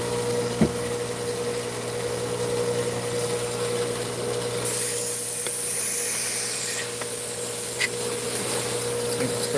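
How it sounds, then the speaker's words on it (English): A rock-cutting saw used on opal, agate and turquoise is sprayed down with water, giving a steady close hiss over a constant machine hum, growing slightly louder partway through, with no talking. "Let's do a quick spray down."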